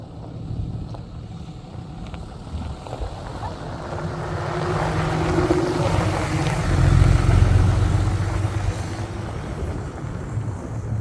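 Strong wind buffets the microphone at a campsite in Central Oregon, a steady roar of gusts that swells louder midway and stays continuous throughout with no talk.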